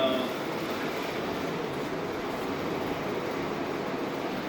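A Fox body Mustang engine roars on a dyno, a dense steady rumbling drone with broad rushing noise, loud and close and holding fairly level throughout without speech.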